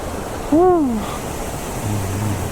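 A steady rushing roar of falling water fills the clip, with a brief tonal call rising and falling above it near the start.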